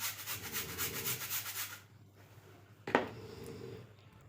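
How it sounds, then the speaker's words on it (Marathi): Jaggery is grated for banana gulgule, a fast rhythmic rasping scrape that runs steadily for nearly two seconds, pauses, then resumes with a single sharp stroke and softer rubbing, close and fairly quiet. "गूळ आपण चांगलं किसून घ्यायचं."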